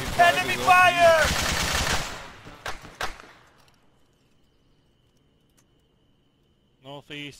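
Gunfire in the ArmA 3 video game: a voice talks first, then two quick, sharp shots crack out before the sound falls nearly silent, and a brief voice returns at the end.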